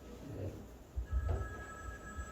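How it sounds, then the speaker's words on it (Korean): A mobile phone rings in a church during a Sunday Baptist sermon, a steady electronic tone that starts partway through and carries on over the low murmur of the hall. "그 잠깐 나가신 그분의 전화네요"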